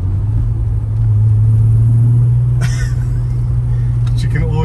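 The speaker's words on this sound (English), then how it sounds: "You can already hear this engine just purring away." A Volkswagen Golf Mk3 VR6 engine idles close by with a smooth, steady low hum, unbroken throughout, with a faint squeak near the end.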